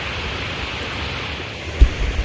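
Steady broadband rush of river water pouring over a dam, continuous and fairly loud, with a couple of low thumps near the end.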